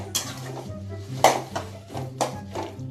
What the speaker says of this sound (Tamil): அதை ஆட் பண்ணி கிளறி விட்டிங்கன்னா அது கொஞ்சம் கிரேவி மாதிரி ஆகும்